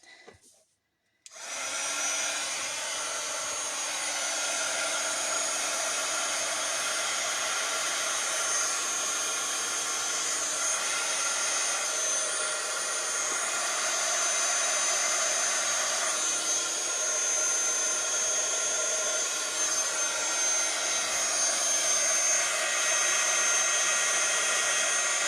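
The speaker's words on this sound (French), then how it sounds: "je branche mon pistolet chauffant. Je suis désolée, ça va faire un petit peu de bruit." Heat gun drying alcohol marker ink on a card runs with a loud, steady, unbroken roar and hiss that starts abruptly after a second of quiet and holds at the same level to the end.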